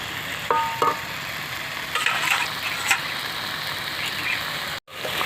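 Rohu fish oil jhal curry sizzling steadily in the pan after a splash of water goes in, a continuous hissing fry with faint stirring scrapes, close and moderately loud, briefly cutting out near the end.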